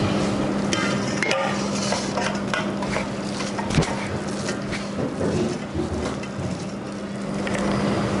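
Glutinous rice being stirred with hot coconut milk in a pan, a steady close scraping and wet churning texture with faint sizzling underneath, continuous throughout.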